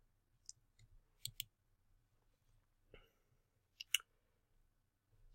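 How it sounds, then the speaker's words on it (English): Faint, sharp computer mouse clicks, a few scattered single and double taps in a quiet room. "Once you have that all set, you can go ahead and click Add."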